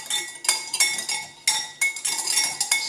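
A spoon stirs salmon, apple and avocado tartare with chopped chives in a bowl, making a steady rhythm of bright, close clinks and scrapes against the dish with no talking.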